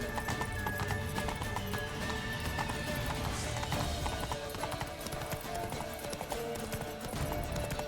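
Horse hooves clip-clopping at a gallop with a neigh in The Witcher 3, steady hoofbeats layered over game music and ambience throughout, close and fairly loud.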